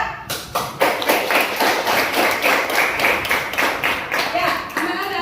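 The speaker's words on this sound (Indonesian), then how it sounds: "Berikan dulu aplaus untuk temannya yang sudah menjawab ya." Classroom applause at an elementary school as pupils clap for a classmate who answered, a steady run of overlapping hand claps for about five seconds, fairly close and even in loudness.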